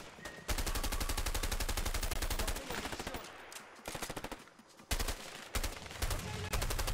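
Rapid automatic gunfire in the co-op video game A Way Out during a jungle firefight, loud sustained bursts with short gaps and a few staccato volleys, close and dominant.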